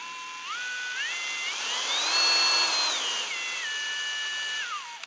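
A variable-speed power tool with a digital motor whines up through stepped speed changes, holds a high pitch, then winds back down; the sound is close, steady and alone.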